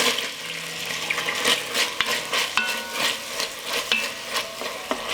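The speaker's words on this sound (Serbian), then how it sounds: "Na ovoj masnoći propržit ću crni i beli luk." Wet sizzling and bubbling from onion and garlic frying in rendered meat fat, with scraping stirs and clinks of a utensil against the pan at irregular intervals.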